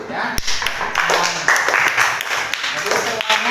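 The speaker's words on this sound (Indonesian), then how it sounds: "tepuk tangan buat kelompok" A classroom of students claps for a student group, a burst of fairly loud, close applause with overlapping voices and chatter mixed in throughout.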